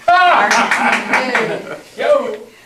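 An audience claps in quick, scattered bursts at a Toastmasters meeting while a person talks over the applause nearby.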